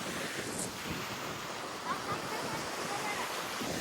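Waves washing in over a rocky shore with no sand, a steady broadband rush of water with wind noise that stays loud and fairly even throughout.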